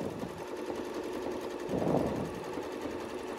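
A sewing machine stitching along a curve template during quilting, a steady rapid mechanical whir with a brief rise in intensity near the middle, close and continuous, with no talking.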